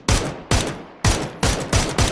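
Loud, sharp video game gunshots crack out in quick succession, six bursts over about two seconds with short echoing decays, growing faster toward the end.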